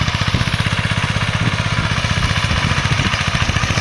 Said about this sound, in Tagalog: Ayan, napakalakas ang ating tiller, no, napakalakas yan, no.